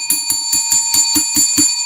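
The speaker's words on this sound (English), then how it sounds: "We got our old school Uncle Steve, and I was ring the bell for Unc" A bright metallic bell rung rapidly on a livestream, about eight evenly spaced strikes in under two seconds, loud and close with ringing overtones and no talk.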